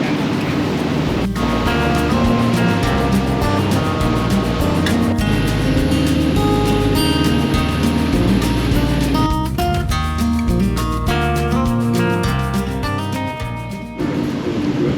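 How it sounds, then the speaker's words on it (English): A boat's engine runs hard under throttle on open water near Macquarie Heads, a loud, continuous engine roar and tonal drone with rushing water and wind noise throughout, no voices. "You can absolutely feel the power when he puts the throttle down on this ship."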